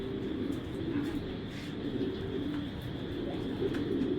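Racing pigeons coo nearby in a loft, with soft, rolling, repeated coos over a steady low background hum and no talking.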